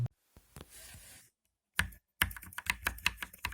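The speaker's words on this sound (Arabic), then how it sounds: "ثم الصوت اللي بيطلع من الخبطة اللي بتصير بين الكي كاب وجسم السويتش" Keycaps on a Redragon Yama K550 RGB mechanical keyboard with red switches bottom out against the switch bodies in crisp, close, irregular clacks. A short typing burst comes first, then a pause, then a faster run of keystrokes.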